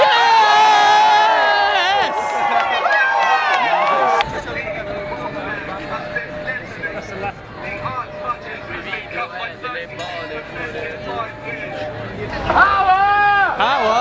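Outdoor anti-Tory protest crowd cheering and whooping on a grassy field, loud mixed shouting and babble with a rising roar near the end, bursts of yelling over a busy, continuous crowd noise.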